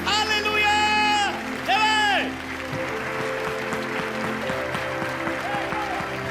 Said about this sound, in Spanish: Que ese aplauso se escuche, que se sumen los ángeles